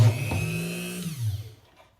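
An electric drill bores a hole, its motor whining loud and steady before the pitch drops and spins down to silence within about two seconds.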